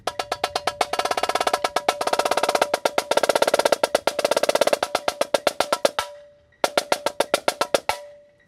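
Snare drum from a drumline snare break, played solo in rapid, rhythmic phrases of crisp strokes with accented groupings, a brief pause, then a final burst of hits.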